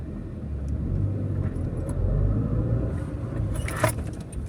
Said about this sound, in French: On va juste faire un petit démarrage vite fait, là, on va voir ce que ça donne sur le parking.